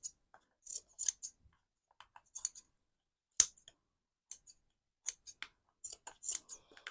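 Scissors snip ribbon for making Christmas hair bobbles, close and quiet, a series of sharp separate cuts scattered irregularly with brief pauses between them.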